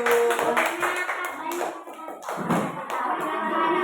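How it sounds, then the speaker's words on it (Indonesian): Students in a classroom clap for a group, a loose patter of separate hand claps with uneven rhythm, fairly close, while people talk over it. "Tepuk tangan dulu."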